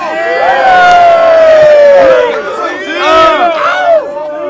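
A large crowd at a rap battle roars and cheers loudly, with shouted voices rising and falling in a dense, sustained wall of noise.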